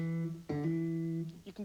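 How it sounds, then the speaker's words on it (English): Guitar hammer-on from the first to the third finger: a sustained note, then a plucked attack and a quick rise in pitch, ringing close and clear with no talking. "Hold the 1st finger down firmly and then hammer on with the 3rd finger."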